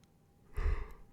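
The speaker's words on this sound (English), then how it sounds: "Had to yawn there." A person yawns once, a brief breathy swell of air rising and fading over about half a second, fairly close and soft, with no talking around it.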